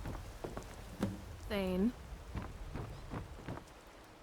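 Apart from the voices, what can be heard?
rain falling in the video game Skyrim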